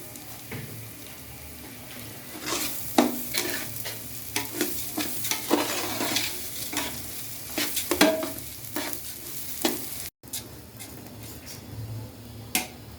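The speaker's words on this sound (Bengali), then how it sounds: "লবণ দিয়ে চাল ভালো করে ভেজে নেব।" Polao rice fries with salt for a beef biryani while being stirred, with repeated sharp scraping and clicking strokes over a soft, steady sizzle.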